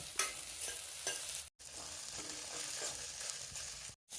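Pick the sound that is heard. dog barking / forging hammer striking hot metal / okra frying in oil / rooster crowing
okra frying in oil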